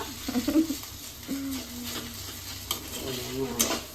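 Sago pearls fry in a pan for payasam, giving a steady soft sizzle with scraping stirs near the mic and a faint tonal hum in the background.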